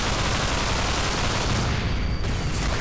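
Shotgun fire in Underhell, a Half-Life 2 mod, comes as a loud, dense burst of blasts and gunfire that fills the whole stretch with little pause.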